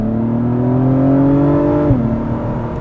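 A 2021 Acura TLX Type S accelerating through a corner, its engine drone climbing steadily in pitch, then dipping briefly near the end before pulling on. The sound is close and loud and continuous, with no talk.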